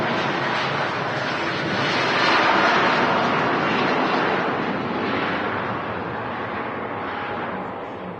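Jet2 airliner at Manchester Airport, a loud, steady jet engine roar that swells and then slowly fades as the aircraft passes nearby.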